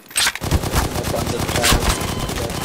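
Rapid automatic SMG fire in Garry's Mod, a loud dense burst of closely spaced shots running continuously with sharp repeated cracks throughout.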